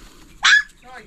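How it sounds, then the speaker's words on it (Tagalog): A single short, sharp yelp from a puppy in a litter rings out close by in a quiet rural outdoor setting, followed by a faint squeak. "Yung mga tuta ni Boss Andy, oh."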